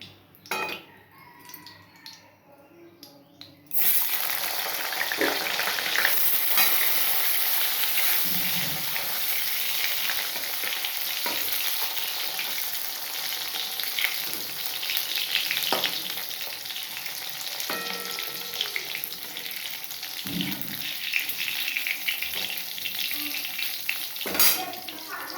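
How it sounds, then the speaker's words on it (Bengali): Eggplant sizzles and fries loudly in hot oil with a cumin seed tempering, a steady crackling hiss after a quiet start, broken by occasional stirring scrapes and clinks of a utensil against the pan. "দিয়ে বেগুনটা ভেজে নেব"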